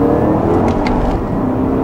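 A 2011 Porsche Panamera Turbo's twin-turbo engine pulls hard under acceleration, a loud, dense roar heard from inside the car with a faint turbo whir and whistle over it.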